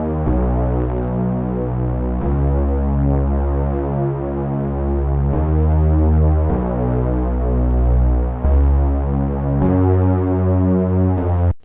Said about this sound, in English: So I also added a bass from Serum.